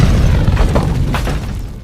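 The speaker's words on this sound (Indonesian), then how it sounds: "Piper pun langsung menembakkan senjata pamungkas tersebut yang ternyata mengenai anak buahnya Jonah." A massive explosion from a powerful weapon fired in the action film Drive Angry, a loud, sustained rumbling boom with crackling debris that fills the entire moment and slowly fades at the end.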